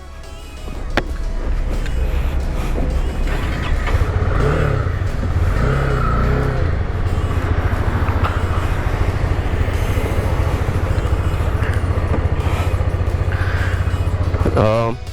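Honda 300F motorcycle ridden on a group breakfast ride near Mangalore: a steady, loud engine drone with road rumble runs throughout, with a voice talking over it.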